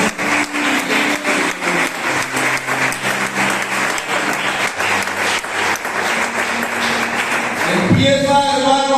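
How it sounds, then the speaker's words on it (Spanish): A church congregation gives loud, sustained applause with fast, dense clapping that stays even throughout, followed by a brief burst of tonal sound at the end. "Dan un fuerte aplauso a Jesucristo"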